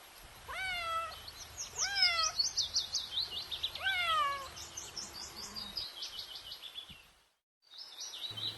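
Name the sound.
cat meowing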